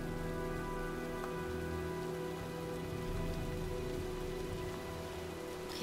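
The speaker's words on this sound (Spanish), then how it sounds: "Bueno, parece que se avecina la tormenta." Rain from an approaching storm in the video game Heavy Rain falls as a steady, dense hiss of drops on surfaces, even and unbroken throughout, with no talk.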